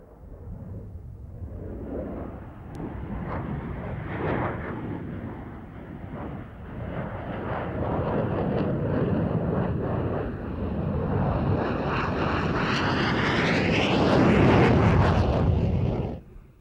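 A fighter jet roars through a flying display at Mildenhall Air Fete, a loud, windy engine rumble that swells and rises in pitch as it passes close, then cuts off sharply.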